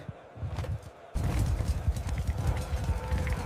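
Cavalry horses gallop in a dramatized battle scene, a soft approach that suddenly swells into dense, loud, rhythmic hoofbeats thundering close by.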